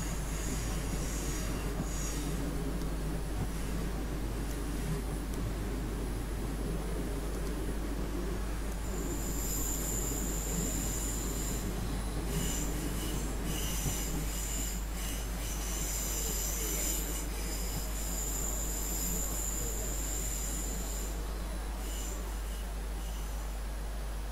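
An S-Bahn train in Train Simulator pulls forward along a platform with a steady low rumble, and a high wheel squeal rises and falls over the middle stretch as it creeps ahead; no talking.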